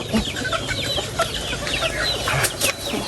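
Chicks and chickens at a fishpond farm, with steady close peeping and clucking throughout and no talk.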